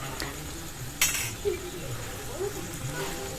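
Chicken with spices stirred in an iron wok, with a few clinks and scrapes of a metal spoon against the pan over a faint sizzle and a soft murmur in the background.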